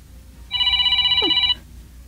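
A cellphone rings with one loud, electronic trilling ring lasting about a second, close by, set against a quiet background.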